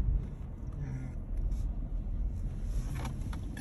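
A car drives along a road in Northern Virginia, with steady low engine and tire rumble running throughout at an even level and no talking.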